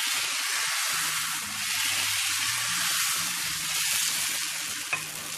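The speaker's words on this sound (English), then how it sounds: "Start with heat the pan and put in your dosa batter" Dosa batter spread on a hot pan sizzles in a steady, loud hiss that fills the whole clip without pause, with faint low clinks and scraping beneath it.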